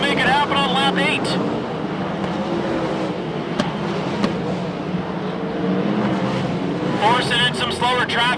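Winged 410 sprint cars race on a dirt track at Chico, engines roaring continuously at a distance while a commentator talks over them, with sharper whining passes near the start and end.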